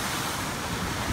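Ocean surf rolling in at Balboa Beach, a steady broadband wash of breaking waves with wind buffeting the microphone, continuous and fairly loud with no voices.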